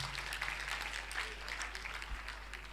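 A church congregation applauds and cheers steadily, a dense wash of clapping that holds at an even level for a few seconds with no clear pauses.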